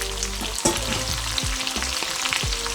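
Shrimp sizzles steadily in a very hot oiled pan for spicy garlic shrimp, a dense crackling fry running throughout, close and fairly loud, with a few low clunks and thumps from the pan and no talking.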